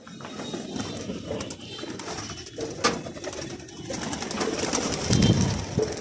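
Pigeons coo from inside a small pigeon loft. The soft, repeated calls run throughout, joined by rustling and a short burst of wing flapping near the end. No one speaks.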